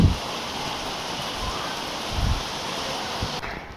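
Heavy rain pours down as a steady, dense hiss, with low thumps and bumps rising briefly in the foreground.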